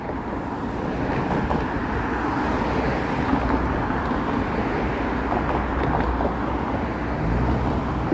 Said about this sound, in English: these cars are noisy